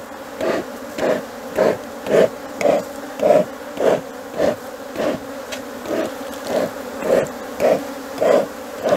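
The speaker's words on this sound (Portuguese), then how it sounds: "Com muita abelha, né?" Honeybees swarm over an opened, strong colony hive full of brood frames, making a loud, dense buzz that swells and fades in a steady, regular pulse, close to the microphone with no talking.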